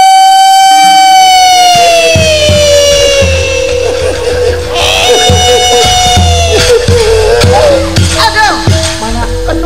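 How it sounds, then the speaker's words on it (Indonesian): An ambulance siren wails loudly and steadily, its tone sliding down and then warbling, with voices and clatter from a staged folk theatre play mixed in underneath. "Mobil ambulan."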